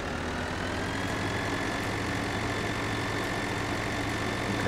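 Tractor engine in Farming Simulator 2013 running with the More Realistic mod, a steady low rumbling drone that stays even throughout, loud and alone.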